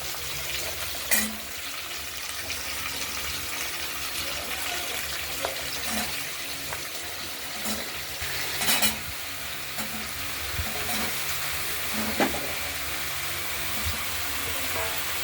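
Potato, pumpkin, ridge gourd, pointed gourd and jackfruit seeds fry with a constant sizzle in a wok, with occasional scraping and clinks as they are stirred.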